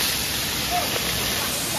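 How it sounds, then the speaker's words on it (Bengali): Meat frying in a pan during household cooking for a child's rice-feeding ceremony gives a steady, even sizzling hiss that runs unbroken throughout, with no talking over it. "মাংস ভাজা হচ্ছে"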